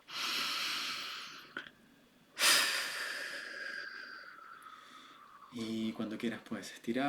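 Deep breathing during a guided breathing practice: a long, slow exhale fades out, then a sharp forceful inhale-exhale follows, trailing off into a gradually softening breath, with rhythmic breathy sounds at the end.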